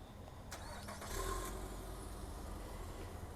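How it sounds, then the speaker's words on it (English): A 2018 Nissan Altima SL engine cranks briefly by remote start and catches, then settles into a low, steady idle, heard from a short distance. "it has the remote start on it."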